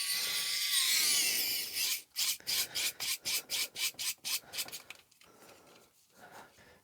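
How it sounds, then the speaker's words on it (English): Motorised screwdriver driving screws into a white 3D-printed case: a sharp rasping burst, then a rapid series of about a dozen short even pulses, fading to quieter clicks, close and fairly quiet. "I think I'll use my mechanical screwdriver for this, or my motorised wow stick for this"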